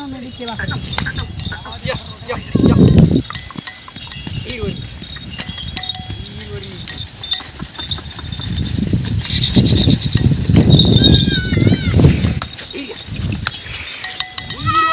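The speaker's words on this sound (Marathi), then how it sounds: "हे आमचे मेंढ्यावाले भाऊ येता मेंढ्या जाती" A flock of sheep moves past, bleating at intervals amid shuffling, bells and background voices, growing busier toward the middle.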